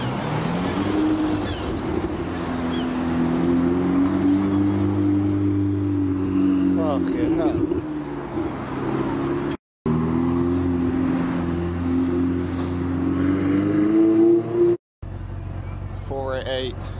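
A Ferrari 488 GTB supercar drives past on a street in Weston-super-Mare. Its engine drones steadily and fairly loudly with shifting pitch, then cuts out briefly twice.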